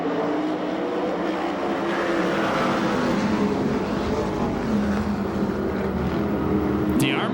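USAC/CRA sprint cars roar around a dirt track at Perris, California, a dense, continuous engine drone from several cars at once, loud and unbroken throughout.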